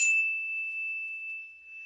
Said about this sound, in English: I will sound a chime after each sharing to allow us to pause